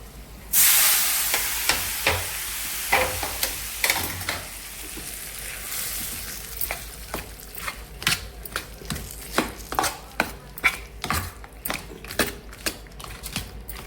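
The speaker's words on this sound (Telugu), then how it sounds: "చక్కగా ఇప్పుడు కరివేపాకు, ఎండుమిరపకాయలు వేసేసుకుందామండి" Curry leaves and dried red chillies hit hot oil for a South Indian tempering over cucumber chutney, a loud sudden sizzle that slowly fades, followed by a run of sharp spoon-on-pan clinks and scrapes close by.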